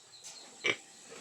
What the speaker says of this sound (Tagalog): Di mga baboy ni Tisoy